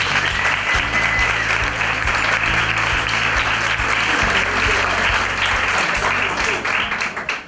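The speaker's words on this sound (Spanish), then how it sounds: "Y lo recibimos con un fuerte aplauso" An audience at a lecture on animal rights law claps steadily to welcome a speaker, dense sustained applause that tapers off at the end.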